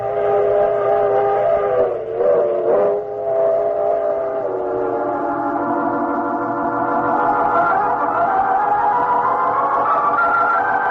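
Train sound effect from an old-time radio drama: a steady rolling rumble of a moving train with sustained whistle-like tones that dip briefly and then rise in pitch, loud and continuous with no talking.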